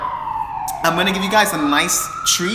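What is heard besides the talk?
ambulance siren outside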